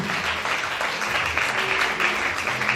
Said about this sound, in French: Put your hands together beautifully for Jesus.